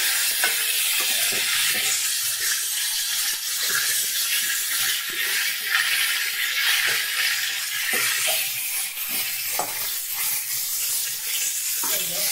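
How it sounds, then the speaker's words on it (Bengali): Cauliflower and potato fry in a pan with chopped onion, producing a continuous crackling sizzle broken by frequent scraping and stirring strokes at an even pace, close and fairly loud, with no talking. "একটু লাল লাল করে আমি ভাজা করে নেব ফুলকপি আর আলু।"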